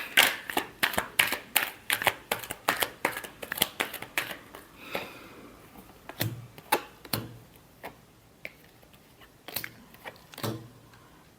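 Tarot cards are shuffled by hand in a quick run of sharp, rhythmic riffles and slaps, about a dozen in the first half, then sparser, louder bursts, with no voice.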